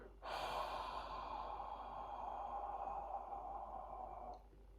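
One long, slow, steady exhale through the mouth during a guided breathing exercise. It is close and soft, starts abruptly, holds an even breathy rush for about four seconds, then stops.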